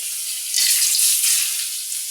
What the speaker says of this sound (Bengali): এটি ভাজা হচ্ছে এবং এখানেও তেল গরম হচ্ছে